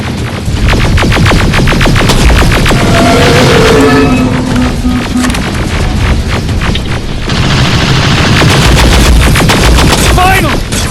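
Sustained video game combat against a big robot: dense automatic gunfire, repeated rattling bursts and low booms fill the whole stretch at high volume, with voices shouting between the shots.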